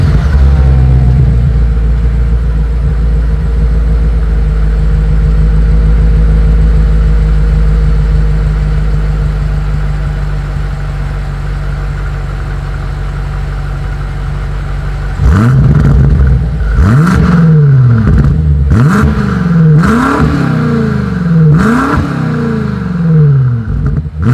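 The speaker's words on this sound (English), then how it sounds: "Here is that 2020 BMW M8 exhaust" A 2020 BMW M8 sits idling with a deep, steady exhaust drone, then blips the throttle in a series of five or six sharp, loud revs that rise and fall in quick succession, close up.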